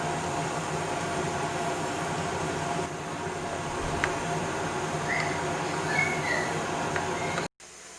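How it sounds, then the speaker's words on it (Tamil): A kitchen mixer grinder churns roasted coconut and spices into a paste, giving a loud, constant whirring drone that holds steady for several seconds before cutting off abruptly near the end. "பேஸ்ட்டு மாதிரி நல்லா மிக்சியில் அரைச்சி எடுத்தாச்சு"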